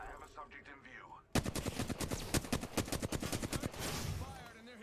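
Rapid automatic gunfire in Apex Legends, a loud, sharply rhythmic burst of evenly spaced shots that starts abruptly and runs for several seconds before trailing off, with speech briefly heard before it.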